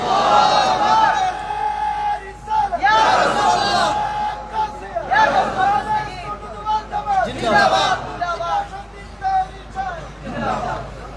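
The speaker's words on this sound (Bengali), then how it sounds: "আল্লাহু আকবার জোরে বলেন, আরো বড় করে বলেন আল্লাহু আকবার" A large gathered crowd at an Islamic sermon shouts the takbir "Allahu Akbar" in loud, repeated collective bursts of voices, a preacher's voice leading in between the chants.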